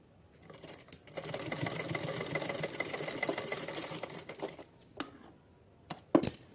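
A sewing machine runs a steady stitching burst while sewing a bodice onto a small dress for a Kanha ji idol, moderately loud and close, ending with a few clicks and taps.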